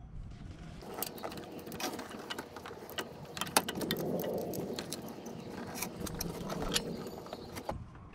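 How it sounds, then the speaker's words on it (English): A wrench works loose the alternator pivot bolt on a 2005 Toyota RAV4, giving close metallic clicks, ratcheting and clanks in an irregular rhythm with a brief grinding rasp in the middle. "So I'm gonna be loosening up the pivot bolt for the alternator."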